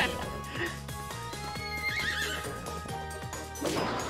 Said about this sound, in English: I keep forgetting we have a horse.